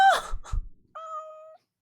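A cat gives a few short, breathy vocal bursts and then a single clean, sustained meow-like cry, close and fairly loud in a quiet room, without speech.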